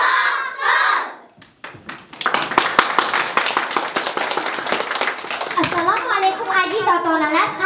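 Someone speaks, then a group of children claps in fast, uneven bursts, with young voices chanting over the clapping near the end.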